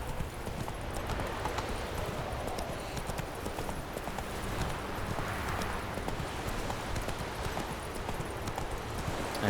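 Hooves of Roach, Geralt's horse in The Witcher 3, clip-clop in a steady trotting rhythm along a shoreline, close and continuous for the whole stretch over a soft ambient bed.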